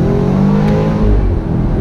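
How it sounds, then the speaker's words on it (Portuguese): A BMW Z4 engine revs hard and loud, a sustained deep roar with rough crackling pops from the exhaust, no voices. "Não sei se tá dando pra ouvir, mas dá um estralão no escape"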